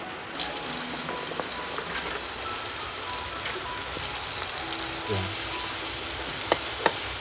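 Spices and tempering oil sizzle steadily in a pan as cooking for a Konkan-style crab curry begins, a continuous frying hiss with occasional pops and stirring clinks, close and loud, with no talk.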